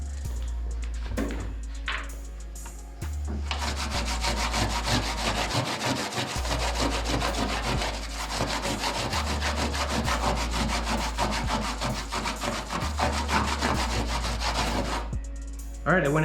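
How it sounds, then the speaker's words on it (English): Goo Gone residue is sanded off a surface being prepped for spray painting. The close, continuous scratchy rasping runs for about twelve seconds with short pauses at the start and end, and no talking. "I went ahead and sanded some of the Goo Gone into it"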